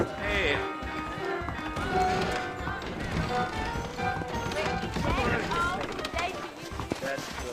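Rhythmic hoofbeats of saddled horses clip-clopping along in Red Dead Redemption, mixed with game ambience and a voice speaking over them.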